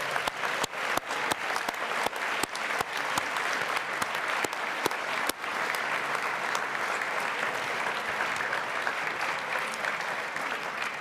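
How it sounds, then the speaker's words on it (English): An audience at the Scottish Festival of Brass applauds the conductors, opening with a few sharp claps that swell into sustained, dense clapping throughout, loud and close with no speech. "let's give them all a round of applause right now"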